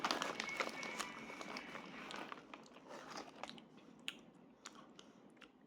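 Close, moist chewing and crunching of food being eaten, with irregular bites and mouth sounds running through the whole stretch at a fairly quiet level, without speech.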